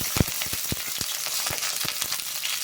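Curry leaves dropped into hot oil with popped mustard seeds, a bright, dense hiss of sizzling frying spread across the whole moment, close and steady, with a few small crackles and pops scattered through it.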